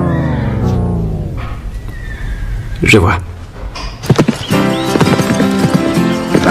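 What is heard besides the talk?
horse neighing and hooves clip-clopping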